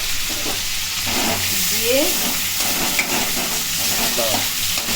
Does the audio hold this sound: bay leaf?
yes